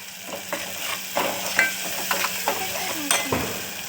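Spices being stirred in a pan for a Marathi brinjal curry, a close steady sizzle broken by repeated scraping and clinking strokes of a spoon against the pan, with no voices.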